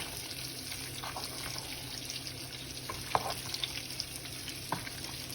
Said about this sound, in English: Now we're just gonna give our macaroni a good little stir.